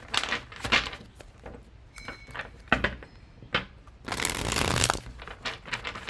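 Tarot cards being shuffled by hand: bursts of crisp riffling and flicking, with a longer, louder run of fluttering cards near the end and brief quiet gaps between bursts.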